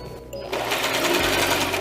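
A sewing machine runs steadily at close range, its rapid stitching hum continuous for nearly two seconds after a brief quieter start.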